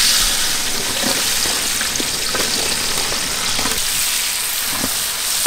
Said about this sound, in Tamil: மீன் வறுத்த எண்ணெயில் நறுக்கின வெங்காயத்தை அப்படி வசக்கி எடுத்துக்கணும்க்கா